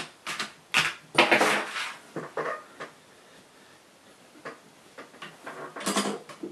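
Lock pins cut with a hand tool while the lock is held in a vise: a series of sharp, close clicks and snips in irregular bursts, fairly quiet and with no talking.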